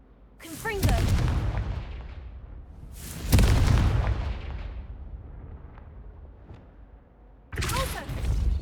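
The Confringo explosive curse spell in Hogwarts Legacy sets off three heavy, booming blasts a few seconds apart. Each has a sharp crack and a long rumbling fade, and one voice speaks faintly between them.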